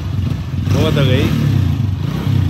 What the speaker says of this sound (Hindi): रेस दे थोड़ी, बस ज्यादा नहीं देवा, ज्यादा नहीं देवा